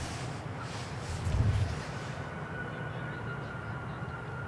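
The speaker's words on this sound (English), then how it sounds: "A silky smooth landing for the Embraer." An Embraer jet lands at Amsterdam Schiphol on runway 18R, its roar swelling briefly from a distance into a low rumble, then settling into a steady fading whine.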